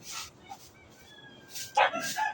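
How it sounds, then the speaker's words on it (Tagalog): A dog barks a few times at a distance amid outdoor ambience with faint chirping, the barks growing louder toward the end. "Yan, may maingay na aso."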